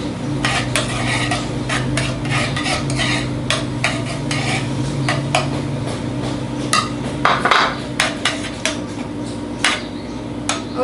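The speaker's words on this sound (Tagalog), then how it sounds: "Then let's add our sliced garlic." Sliced garlic fries in a pan on lowered heat for ramen, a soft continuous sizzle broken by frequent close clinks and scrapes of a utensil against the pan.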